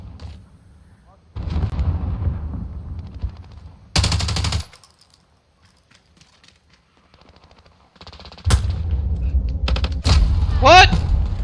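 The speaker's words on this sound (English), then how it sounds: "I just got shot in the side from our spawn." Gunfire in a Call of Duty Modern Warfare hardcore team deathmatch on the Crash map, loud rapid automatic bursts broken by quiet gaps, with sharp single shots and a voice speaking between them.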